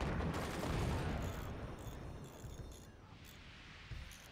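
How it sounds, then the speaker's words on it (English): Cannon fire in the video game Forts, a rapid barrage of booming shots and impacts, dense and heavy at first, then thinning and fading over the following seconds. "He has a cannon! Incoming!"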